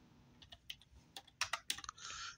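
Fingers type a search into Google on a computer keyboard, producing a quick burst of close, crisp key clicks at an irregular rhythm in a quiet room, with no talking.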